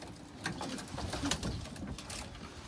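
A pigeon coos softly amid a busy, noisy background at a pigeon breeders' association, its low murmuring calls repeating faintly over about three seconds.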